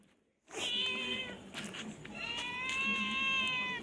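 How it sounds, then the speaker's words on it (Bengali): A pet cat gives two long, drawn-out meows, close and clear, after a brief moment of silence. The second call is slightly longer and wavers in pitch. "ম্যাও ম্যাও।"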